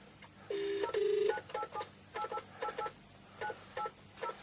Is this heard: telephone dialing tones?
yes